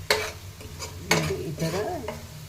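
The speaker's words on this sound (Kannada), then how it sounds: "ಹಸಿಮೆಣಸಿನ್ಕಾಯಿನೂ ಚೆನ್ನಾಗಿ ಫ್ರೈ ಆಗಬೇಕು ಎಣ್ಣೆಯಲ್ಲಿ" Garlic and green chillies fry in oil while a utensil stirs them, with a bright sizzle, a couple of sharp scraping strokes and a rattling scrape near the middle, all close up.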